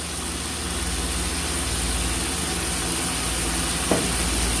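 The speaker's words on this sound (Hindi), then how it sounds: "अब हम इसमें ये टमाटरों का पेस्ट डालेंगे" Tomato paste sizzles and fries in a pan while cooking chicken qorma, a steady broadband hiss held at even loudness throughout, with one brief clink near the end.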